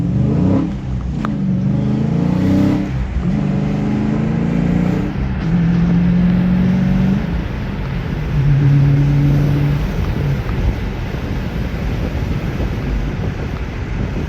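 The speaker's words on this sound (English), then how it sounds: "When you do rev this car, you can definitely feel the energy behind you." A six-speed manual Dodge Challenger SRT 392 engine rumbles and revs in low, rising and falling bursts under steady wind and road noise, heard from inside the moving car with no talking.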